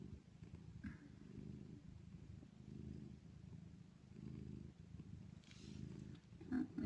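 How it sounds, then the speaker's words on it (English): A mother cat kneading while purring gives out a deep, rhythmic rumbling purr in steady rising and falling cycles, close and soft, with a brief faint bit of higher sound near the end. "Mama Kenya is making biscuits and purring."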